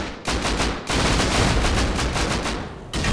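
Rapid automatic gunfire in the survival video game Rust cracks out in dense, loud bursts, with two brief pauses splitting the volleys over a few seconds.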